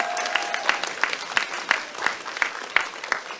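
Applause from the audience at a Democratic Party political concert in Daegu–Gyeongbuk, heard as a steady round of clapping with sharp individual claps standing out, moderately close and carrying through the whole moment without any talk.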